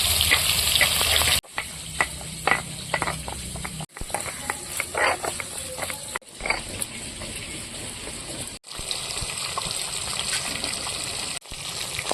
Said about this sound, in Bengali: কড়াইতে আমি এখন তেল দিয়ে মাছগুলো সব ভেজে নেবো